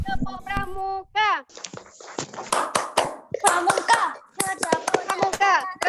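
Schoolchildren performing the Indonesian scout clap (tepuk pramuka) twice, rhythmic sharp hand claps in patterned bursts mixed with children's voices speaking and chanting between them.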